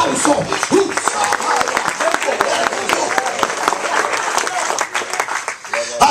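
Applause rises from a church congregation during a sermon, a dense wash of clapping that holds steady for several seconds with voices mixed in over it.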